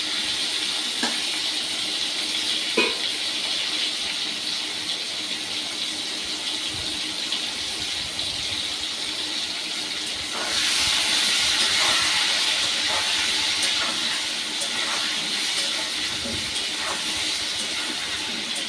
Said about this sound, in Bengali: আলুগুলো দিয়ে আমি একটু হলুদ আর লবণ দিয়ে ভালো করে ভেজে নেব লাল লাল করে